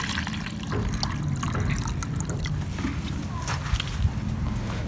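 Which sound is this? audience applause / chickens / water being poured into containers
water being poured into containers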